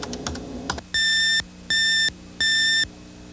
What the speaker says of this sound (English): Type the word system and press enter.